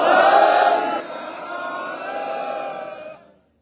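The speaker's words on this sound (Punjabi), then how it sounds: "ਗੱਜ ਵੱਜ ਕੇ ਜਕਾਰਾ ਲਾਵਾਂਗੇ ਬੁਲੰਦ ਆਵਾਜ਼ ਜਵਾਬ ਦੇਣਾ ਬੋਲੇ ਸੋ ਨਿਹਾਲ" A large crowd at an outdoor public hearing in Punjab answers the Sikh jaikara, a loud massed shout of many voices that bursts out strongly, holds as a sustained chant, then fades away.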